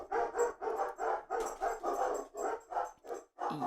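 Several dogs bark repeatedly in a fast, continuous volley at moderate distance, with steady yapping and a few whimpering yips mixed in, no talking over it.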